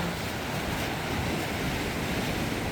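Sea waves crash onto the shore at night at Mukho on Korea's east coast, a steady, loud, unbroken roar of surf with some wind, and no voices.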